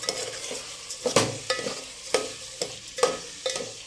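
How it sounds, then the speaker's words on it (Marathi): Rice for veg pulao being sautéed in a pan over high heat: a steady run of spoon scrapes and clinks against the pan roughly every half second, over a light sizzle, close and clear with no talking. "आणि याला आता परतवून घेऊया."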